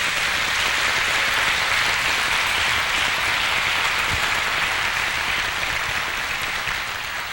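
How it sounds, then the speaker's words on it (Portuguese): A church congregation claps loudly and steadily in sustained applause for about seven seconds, a dense wash of hand claps with no voices standing out, fading slightly at the very end. "Vamos aplaudir o Senhor bem forte,"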